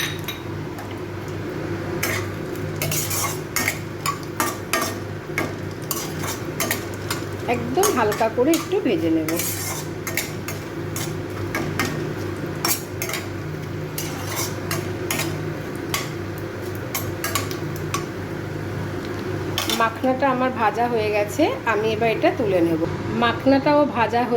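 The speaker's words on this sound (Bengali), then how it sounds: "এই তেলটার মধ্যে এই যে মাখনাটা নিয়েছি এই মাখাটা একটু ভেজে নেব হালকা করে" Makhana (fox nuts) stirred in a pan with oil, with frequent metallic clinks and scrapes of a spoon against the pan. Someone talks throughout, close by, and her voice sits over the steady clatter.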